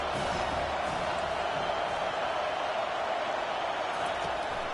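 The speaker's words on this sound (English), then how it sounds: "This crowd trying to make life miserable for this offense." A football stadium crowd roars in a steady, dense wash of noise, loud and unbroken, as the home fans try to disrupt the opposing offense.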